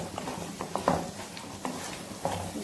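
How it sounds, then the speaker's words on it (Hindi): Black chickpeas and whole chillies are fried and stirred in a pan, with soft scraping strokes and faint sizzling. The sound is quiet and close, with irregular spoon taps over a low hiss. "इसको भी मैं इसी में फ्राई कर लेती हूँ"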